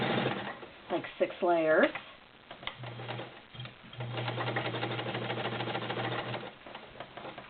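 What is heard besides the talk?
vintage Kenmore 1301 sewing machine stitching upholstery fabric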